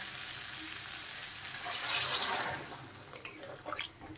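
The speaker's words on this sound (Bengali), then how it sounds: "এখন আমি দিয়ে দেব জল।" Water pours into a pan of jackfruit seed and potato curry, a short swelling splash and hiss in the middle, then a quieter simmering fizz with a few small bubbling pops.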